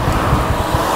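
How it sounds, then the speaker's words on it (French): Strong wind buffets the microphone while cycling on a folding mountain e-bike in a forest, a continuous low roar with gusty thumps, loud and close, with no one speaking. "Et il y a un vent énorme."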